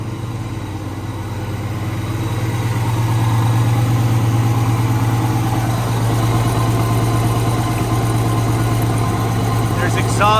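A turbocharged car engine idles steadily with an exhaust leak blowing from a hole, a close, continuous rumble with a raspy, puffing edge throughout.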